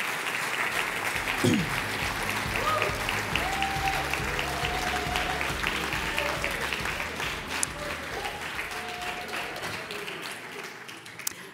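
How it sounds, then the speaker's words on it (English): Sustained audience applause at a GAA awards ceremony at Croke Park, steady and full for the whole stretch, with a faint whistle and murmurs mixed in. "please give a round of applause once more to Darren and James"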